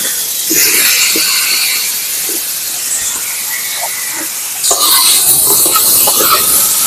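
Potatoes fry in a pan with a continuous loud sizzling hiss, briefly calmer in the middle before surging again toward the end.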